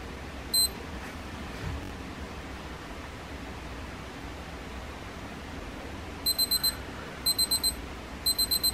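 An LED desk lamp's electronic alarm beeps once, then after a quiet stretch repeats in bursts of four quick high beeps, three times in a row.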